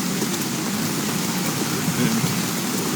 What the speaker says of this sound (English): As rain still heavy on this side here.